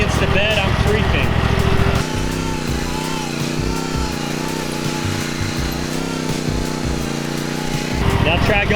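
A lawn mower engine runs steadily while mowing slowly along a garden bed edge, a close, buzzing drone with a dip in pitch midway, and a voice talks over it at times.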